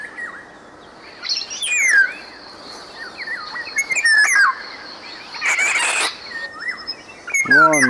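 Several Eurasian golden orioles squabble over a female, giving harsh rasping screeches and sharp chirps in quick, irregular bursts, some close and loud, against a faint insect-like background hiss.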